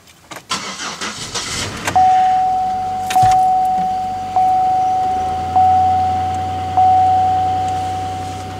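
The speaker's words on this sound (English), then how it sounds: "according to the car, 2 degrees outside, let's see how well she starts" Car cold-starting in 2-degree weather: a few cranking attempts, then the engine catches and settles into a steady idle with a whining tone, close and fairly loud, no talk.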